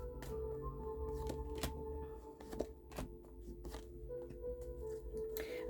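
Goddess oracle cards being shuffled by hand, a run of soft riffling slaps and flicks close up, with no talking.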